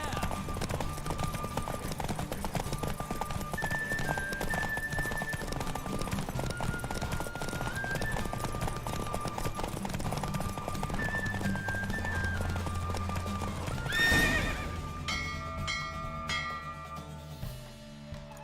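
A horse galloping in a race in The Witcher 3, rapid steady hoofbeats drumming under a game music score, with a sharp whinny near the end and a voice speaking.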